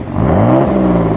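Close, loud rev from a red 1992 Dodge Stealth R/T AWD's twin-turbo V6, pitch sweeping up and then easing down in a single short burst over the idling engine.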